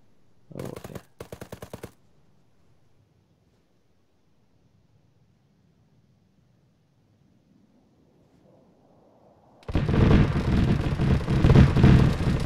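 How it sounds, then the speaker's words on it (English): A 30mm cannon fires in a short, rapid buzzing burst, then two brief bursts before a long quiet stretch, followed by a loud, rolling roar that rumbles on to the end. "Gun run complete."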